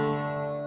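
An acoustic guitar in DADGAD tuning sounds one chord with the pinky fretting a G root, a short, steady, ringing strum heard alone and close.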